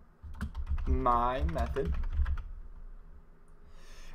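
Computer keyboard typing in clicky bursts of keystrokes under a man's brief speech, continuing faintly after he stops.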